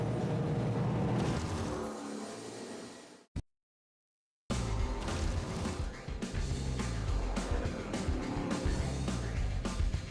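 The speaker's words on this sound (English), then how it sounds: "we'll take a box stock Super Snake off the production line and unleash it in the desert" A stock Shelby Super Snake car roars at high speed across the desert, its loud engine sound continuous, then it cuts out abruptly for about a second before resuming at full volume.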